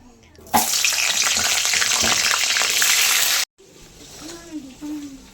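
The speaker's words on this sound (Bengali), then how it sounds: "আলুটা ভাজা হচ্ছে" Potatoes frying in a pan give a loud, close sizzling hiss for about three seconds. It cuts off abruptly and is followed by quieter kitchen sounds and a voice.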